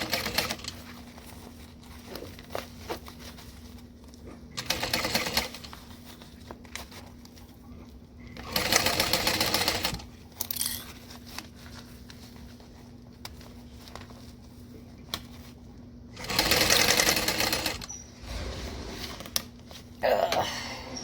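A sewing machine stitches a Lindsport backpack in several distinct bursts of rapid patter separated by quiet gaps and faint handling noises, close and alone.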